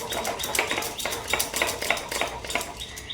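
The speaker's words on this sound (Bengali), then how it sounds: "ডালটাকে বেটে নিচ্ছি" Soaked lentils are ground by hand on a flat grinding stone, the stone rubbing back and forth in a steady, rhythmic series of gritty strokes, close and fairly loud throughout.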